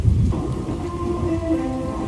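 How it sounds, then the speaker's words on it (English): An afternoon thunderstorm in Troy, Illinois brings a deep rumble of thunder at the start over steady rain, with faint tonal background sounds continuing underneath. "At 4 o'clock, we've got a thunderstorm and 74 degrees downtown at the Arch."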